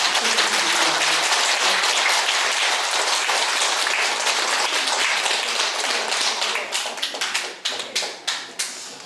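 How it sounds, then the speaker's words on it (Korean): Temple monks greet a guest lecturer with a long round of warm applause, a dense steady wash of many hands that thins near the end into a few scattered, fading claps. "뜨거운 박수를"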